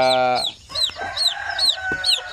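A native hen clucks in a quick series of short, close calls, with a drawn-out harmonic note at the start and other fowl sounds around it.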